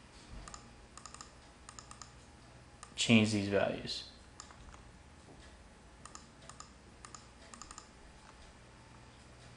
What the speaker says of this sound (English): So all I'm doing is double clicking,